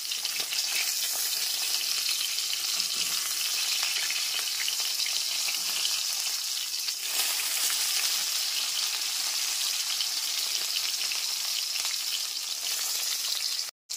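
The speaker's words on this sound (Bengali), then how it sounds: "মাছের পিসগুলোকে এইরকমভাবে একটু উল্টে পাল্টে লাল করে ভেজে নিতে হবে।" Continuous hot-oil sizzle as catla fish pieces fry, dense crackling throughout with a few soft knocks, cutting off abruptly at the end.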